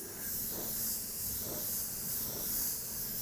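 Airbrush spraying 40% reduced opaque white paint in a steady soft hiss, close and continuous, with a few faint pulses as the spray passes across the surface.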